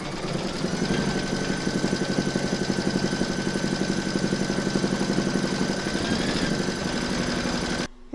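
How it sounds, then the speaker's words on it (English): An embroidery machine stitches a sunflower coaster in a hoop, giving a steady, rapid mechanical chatter close by that runs evenly for several seconds, then cuts off abruptly near the end. "Pop your hoop back into your machine and stitch round number 6 to secure it."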